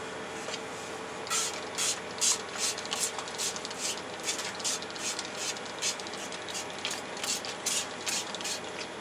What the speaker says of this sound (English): My spray bottle of water.